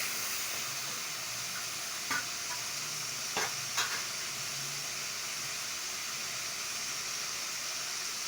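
Tomatoes, green chillies and tamarind sizzle steadily in a pan, a constant frying hiss with a few scraping stirs of a spoon against the metal.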